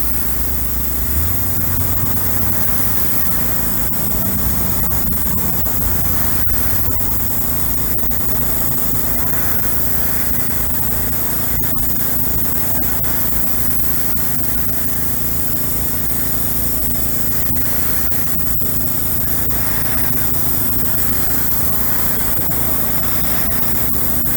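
An airbrush lays a wet coat of House of Kolors paint with a loud, unbroken hiss that carries steadily over a constant low hum, and no one speaks.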